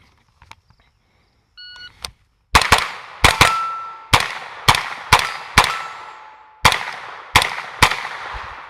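A Colt 6450 9mm submachine gun firing at steel targets outdoors, a string of about ten loud, sharp single reports spaced irregularly, each followed by a short decaying ring, after a few faint clicks of handling.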